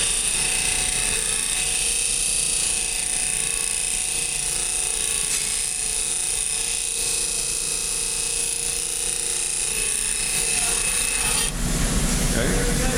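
Bench grinder shaping the second side of a lathe tool bit, a steady high whine with gritty abrasive hiss running unbroken for about eleven seconds before a change in tone near the end.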